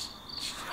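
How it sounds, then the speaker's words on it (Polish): Crickets chirp in a brief, faint, steady trill with nothing else around it, like a quiet night outdoors. "Świerszcze."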